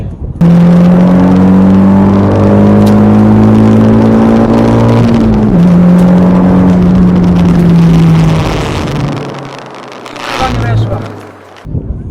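Renault Megane RS tearing down a quarter-mile drag strip, a loud, steady engine drone climbing through the gears with one clear shift, then fading away near the end, with voices talking over it.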